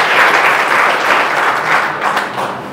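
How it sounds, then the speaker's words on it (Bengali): Sustained audience applause fills a hall at a political discussion and Q&A event, steady and loud throughout with no speech over it. "আমি সালাউদ্দিন ভাইয়ের সাথে আরেকবার করতালি দিতে বলবো।"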